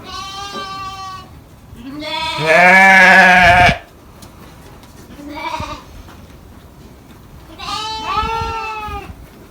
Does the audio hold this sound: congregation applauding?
no